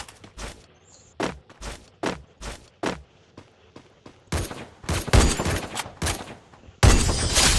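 Gunfire in a shooting video game, with a series of sharp single shots spaced roughly every half second, followed by denser bursts of rapid fire that grow louder toward the end, with no talk.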